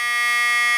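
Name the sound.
Visaton piezo beeper speaker tone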